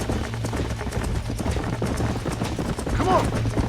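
Horse hooves clip-clopping steadily in a Western-style video game while riders track a herd of horses, a continuous rhythmic beat under game sound with a brief whinny near the end.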